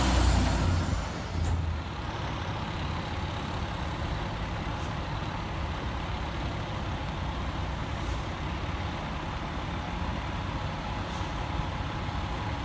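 Fire truck 715, a new 2016 Burtonsville apparatus, idles and rolls with a deep steady engine drone, a brief air-brake burst near the start and faint hissing bursts later.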